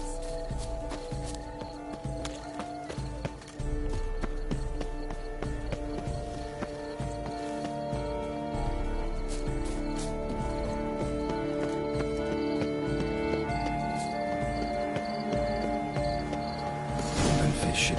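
A horse galloping in The Witcher 3: Blood and Wine game, hoofbeats running under a dense, continuous bed of game music and ambience, with a brief whinny-like burst near the end.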